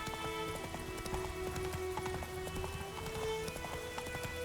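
Horse hooves clatter in quick galloping rhythm through steady rain in The Witcher 3 game, faint and close, with patter of raindrops throughout.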